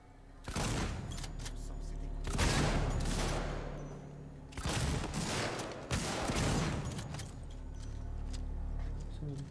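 Shotgun blasts in the video game Alien: Isolation, four or five loud, heavy booms spaced a second or two apart with ringing decay between them.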